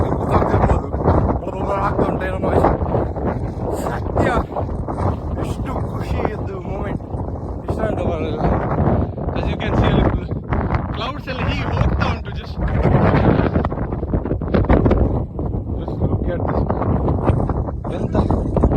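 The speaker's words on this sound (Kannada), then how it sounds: "ತುಂಬ ವಿಂಡ್ ಬ್ಲಾಸ್ಟ್ ಉಂಟು" Strong wind sweeps across a hilltop on Kyatanmakki hills, producing a loud, continuous buffeting roar against the microphone that swells and eases without pause.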